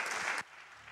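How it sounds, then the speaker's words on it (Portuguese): A church congregation applauding, a burst of dense clapping from a crowd that cuts off abruptly after under half a second, followed by a quiet room. "Aleluia, aplauda o Senhor."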